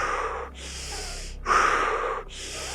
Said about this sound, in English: We're doing some sprinting breaths.